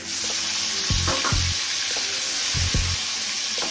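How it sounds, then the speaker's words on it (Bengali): A second batch of rohu fish pieces fries in hot oil with a loud, continuous sizzle, and several short bursts of louder crackle come as the pieces are moved. "এইভাবে করে আমি আবার ভেজে নেব"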